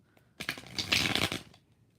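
A deck of tarot cards being shuffled, one brief, soft riffling flurry lasting about a second and heard close.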